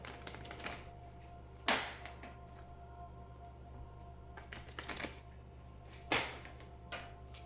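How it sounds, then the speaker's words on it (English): Oracle cards being shuffled in a few quick riffling bursts, each a short crisp flutter separated by pauses, close to the microphone over a low steady hum. "Please think of your question as I shuffle the cards."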